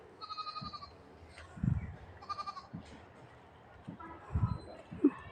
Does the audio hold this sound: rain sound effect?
no